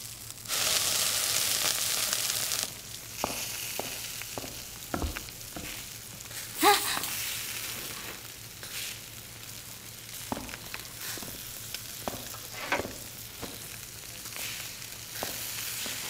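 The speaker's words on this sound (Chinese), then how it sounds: "我在煎牛排。" Steak fries in a pan with a bright, hissing sizzle that starts loud, then settles into a steadier crackle with scattered pops and small clinks, including one louder clatter midway.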